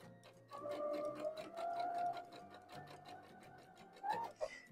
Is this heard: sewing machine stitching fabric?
yes